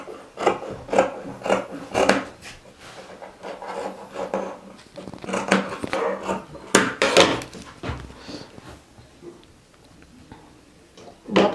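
Knit fabric for a blouse sleeve being cut, with repeated rasping scissor snips and rubbing of cloth close by, irregular and fairly loud, while someone talks in between.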